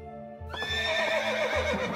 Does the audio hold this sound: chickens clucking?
no